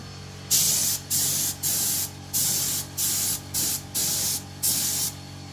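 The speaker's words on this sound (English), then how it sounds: "That's how you spray a rim." A mag wheel rim being spray painted during dent and scratch repair: eight short, even bursts of hissing spray, each about half a second long, with brief pauses between them and nothing else in the foreground.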